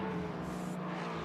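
Lexus race car engine in a sim racing game at Monza, a steady droning roar held for about a second, loud and continuous with no talk.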